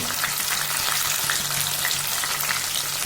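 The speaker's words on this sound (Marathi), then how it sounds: "आता टाकते टमॅटो" Tomatoes hit hot oil with cumin, mustard seeds, whole spices, onion and curry leaves, producing a loud, close, continuous sizzle with crackling spatter, steady from start to finish without talk.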